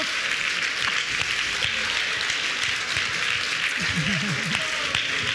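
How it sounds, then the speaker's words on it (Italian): Party guests at a live music show clap for a woman named Marisa, a steady spread of applause mixed with chatter and voices calling out over it. "L'applauso ragazzi, vai!"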